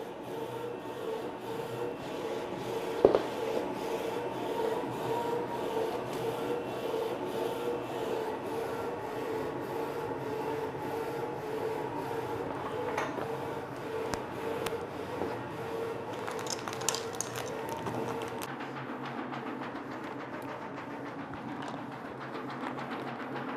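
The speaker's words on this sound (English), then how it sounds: "the dusting switch, open, then the top dusting system start to working, to rotary." A DTF printer runs with its rotating powder dusting system switched on, giving a steady mechanical whir and rubbing drone with a few brief clicks, continuous and fairly close, with no talk.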